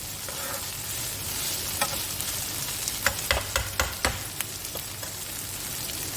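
Onion keema cooking in a pot, a constant soft sizzle with a run of sharp spoon-against-metal clicks and scrapes in the middle as it is stirred, no voices.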